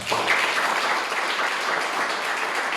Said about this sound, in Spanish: Si lo quieren, denle un aplauso al Señor.